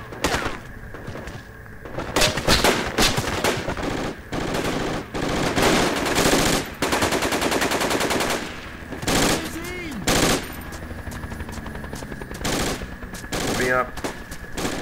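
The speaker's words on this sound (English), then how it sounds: "There's a guy shooting us." Gunfire in the video game Project Reality during a British infantry ambush: bursts of loud automatic fire and single cracks from close by, arriving in irregular clusters with short pauses between them.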